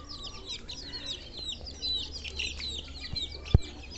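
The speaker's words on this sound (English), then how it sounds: "Here are different lot of bantams." Bantam chickens clucking in a fancy bird loft, busy overlapping clucks and chirps from several birds at close range, with a sharp knock near the end.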